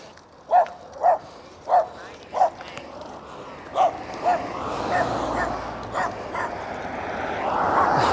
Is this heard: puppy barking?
yes